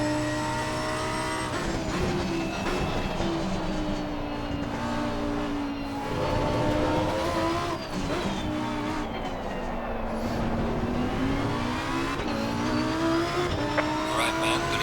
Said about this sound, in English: So hard to keep from burning the tires off this thing.